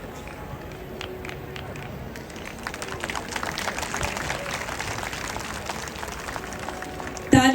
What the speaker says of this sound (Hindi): तालियां जोरों की बजाइए